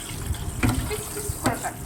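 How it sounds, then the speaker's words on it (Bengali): Mangoes rinsed under a running kitchen tap, a short close splash of water with brief knocks, while someone speaks over it. "ফার্স্টে আমগুলোকে ভালো করে ধুয়ে নেব"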